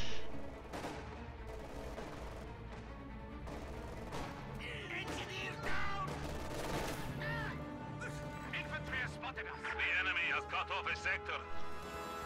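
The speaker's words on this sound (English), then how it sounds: "Katyusha pounding away at something" Katyusha rocket artillery firing in a wartime strategy game, a busy battle mix of repeated bursts and volleys with gunfire layered over background game sounds, a commentator talking throughout.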